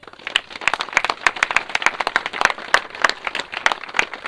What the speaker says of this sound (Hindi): चलिए, इनके लिए एक ताली लगाइए आप लोग।